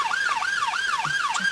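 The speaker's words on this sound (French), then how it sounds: "Entendez-vous les sirènes à Paris?" An emergency siren wails in a city street in Paris, its rising and falling tone repeating steadily and loudly with no break and no talk over it.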